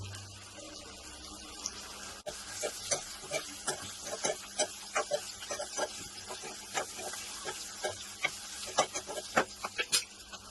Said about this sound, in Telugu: మనం దీంట్లో బీరకాయ ముక్కలు వేసుకుందాము.